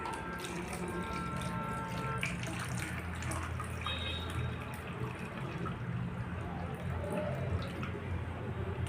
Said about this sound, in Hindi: 200 ग्राम तक पानी ले लेंगे।